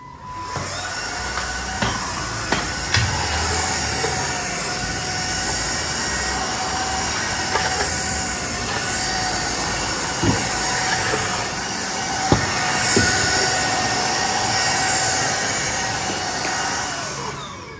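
A household vacuum cleaner with attachments runs steadily while a bedroom is tidied, giving a loud, continuous whining drone with a few small knocks and bumps along the way.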